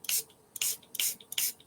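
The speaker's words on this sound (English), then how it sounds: "I'm going to spray water on this" A spray bottle spritzes water onto watercolor paper in four quick, crisp bursts, each a short airy hiss separated by brief pauses, close by and fairly quiet with no talking.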